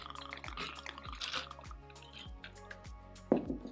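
Peach schnapps is poured into a glass for a cocktail, a soft close glugging with regular bubbling pulses, ending in a brief sharper splash.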